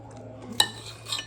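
A metal knife clicks sharply once against a plate or board while cutting a pickle made in a bag, then a lighter scrape follows, close and quiet with a low hum beneath.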